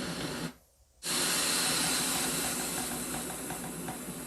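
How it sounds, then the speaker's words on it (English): An iHome Zenergy iZBT10 sleep therapy speaker gives off a steady, full, airy white-noise hiss. It drops out for a brief moment, then returns loud and constant. "I'm guessing that's the white noise that you hear in there."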